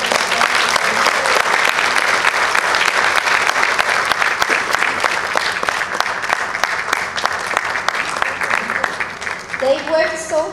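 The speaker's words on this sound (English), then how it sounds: "So we need to give her a big round of applause." A large audience of congress delegates from many countries applauds at an opening ceremony, loud continuous clapping lasting about ten seconds, with a voice coming in near the end.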